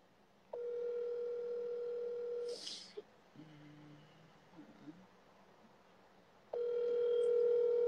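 Steady telephone dial tone held for about two seconds, then a short pause with faint beeps, and the tone returning loud near the end, heard while placing a prank call from a mobile phone.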